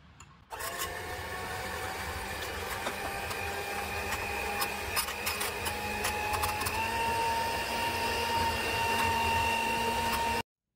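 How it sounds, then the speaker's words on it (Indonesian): An electric hand mixer beats banana cream cake batter for a continuous ten seconds, a steady whirring motor drone with a high whine that steps up slightly partway through, then cuts off abruptly. "Ini kita mixer kira-kira 2 menitan ya."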